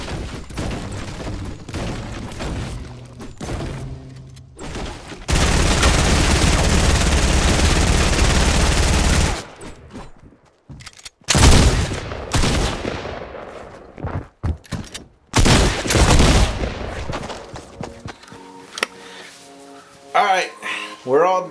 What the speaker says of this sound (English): The shotgun shot.